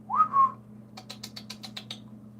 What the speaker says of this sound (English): I gotta probably whistle too.